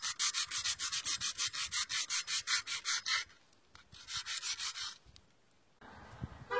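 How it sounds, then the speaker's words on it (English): Rapid back-and-forth strokes of coarse abrasive sandpaper scrubbing a car brake disc clean, a loud rhythmic burst of rasping strokes followed by a shorter, quieter run and a final scrape, close up and without speech. "It's quite abrasive sandpaper, just to make sure it's nice and clean."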